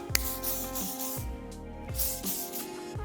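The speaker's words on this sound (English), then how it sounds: "we're going in now with our second round of hairspray" Short hissing bursts of hairspray from an aerosol can, several quick puffs in a row, close and fairly soft.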